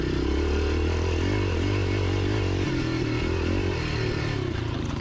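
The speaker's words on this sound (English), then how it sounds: "Just watch the bike give it some here." Yamaha XT 500 motorcycle accelerating hard along a bumpy farm track, a loud, continuous thumping engine roar close by with rising and falling revs and a slight dip partway through.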